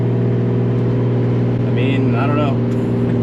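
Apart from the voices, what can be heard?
Nissan Z car engine revving under turbo boost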